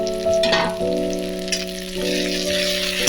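Prawns fry with chopped coriander and green chilli for a yogurt prawn curry, giving a loud, continuous close sizzle with stirring scrapes over a steady tonal hum.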